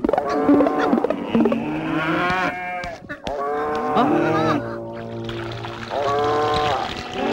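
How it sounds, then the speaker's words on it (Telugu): Buffalo bellowing used as a comic sound effect: a run of loud, drawn-out moos and lowing calls in quick succession, close and clear, with no talk over them. "ఇదేంటయ్యా సెంటు నొక్కుతుంటే బర్రెల సౌండ్ వస్తుంది?"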